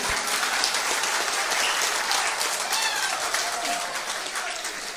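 Steady applause from an audience of many hands fills the whole stretch, dense and even, fading slightly toward the end with faint voices underneath.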